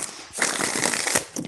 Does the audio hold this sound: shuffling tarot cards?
yes